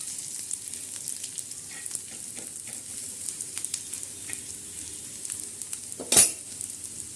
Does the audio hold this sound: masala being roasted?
yes